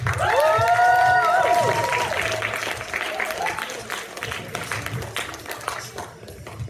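Comedy showcase audience applauding and cheering as a comedian is brought onstage, loud clapping and whoops at first with a brief musical sting, then the applause gradually tapering off.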